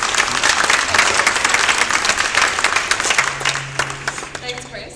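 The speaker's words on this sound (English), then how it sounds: "Please give her a round of applause, Angela Ferguson" A room of attendees at a workspace talk event gives a round of applause, dense close clapping that holds strong and then thins out and fades near the end.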